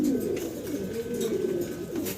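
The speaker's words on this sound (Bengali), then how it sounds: "আবারও চমৎকার একটা জোড়া দেখাচ্ছি, লাহোরি কবুতর।" Lahori pigeons coo in a steady, continuous low rumble, several birds overlapping at close range with no talking.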